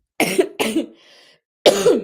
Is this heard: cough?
yes